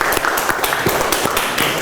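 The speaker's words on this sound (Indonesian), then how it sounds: "Kita kasih tepuk tangan untuk kelompok 1." Brief applause from a classroom or seminar group for a presenting team, a handful of distinct, close claps over a sparse, steady patter.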